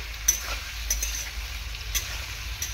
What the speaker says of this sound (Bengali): মিডিয়াম টু হাই ফ্লেমে রাখতে হবে, একেবারে লো করে রাখলে হবে না, হালকা করে নাড়াচাড়া করতে হবে এরকমভাবে।